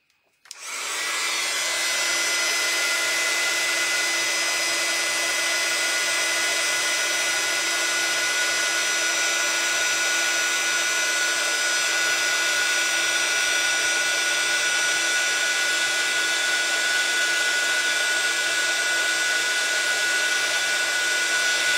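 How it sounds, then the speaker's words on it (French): Heat gun blowing steadily on embossing powder to raise small relief flowers on a handmade gift case, a loud continuous whooshing roar with a high whine that starts abruptly and runs unbroken, no talking. "on va utiliser le pistolet chauffant"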